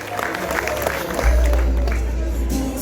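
Wedding guests applaud the couple, a burst of close, dense clapping that carries steadily throughout, with a low rumble building partway through.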